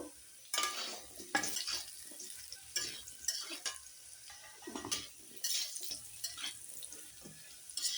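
Vegetables frying for curry in a pan, intermittent soft sizzling and stirring scrapes in irregular bursts with quiet gaps, fairly faint and close.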